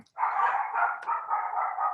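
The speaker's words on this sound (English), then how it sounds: "Sorry about my dogs, you guys." Indoor dogs let out a sustained, fairly close vocal cry that wavers for almost two seconds, with no speech over it.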